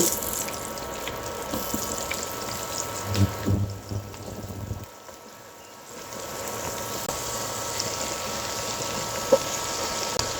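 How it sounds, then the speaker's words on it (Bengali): Cauliflower and potato pieces fry in hot oil left over from frying eggs, a continuous crackling sizzle that dips briefly midway and then resumes steadily. "ওই তেলেই দিয়ে দিচ্ছি ফুলকপি এবং আলু"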